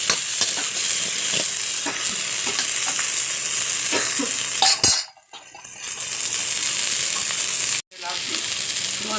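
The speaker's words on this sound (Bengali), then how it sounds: "মশলাটা আমি একটু ভেজে নেব।" Cumin, a few dried chillies and chopped coriander fry in hot oil in a pan, giving a loud, continuous close sizzle with light stirring scrapes; the sizzle dips twice, once briefly around the middle and once near the end.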